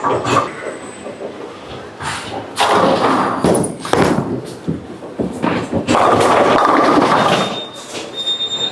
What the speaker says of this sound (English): this is typically when I would hopefully be able to throw this ball in this part of the lane